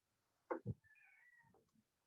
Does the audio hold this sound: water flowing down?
no